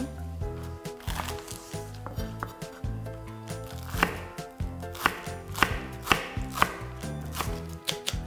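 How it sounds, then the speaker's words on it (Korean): A knife cuts through a thick, fresh green onion (daepa) on a board, giving a series of crisp, close chopping thuds in an uneven rhythm that quickens toward the end, with no voices. "대파 굉장히 굵직하고 싱싱해 보이죠? 좀 쓰기 좋은 부분만, 너무 크니까 한 반 갈라서"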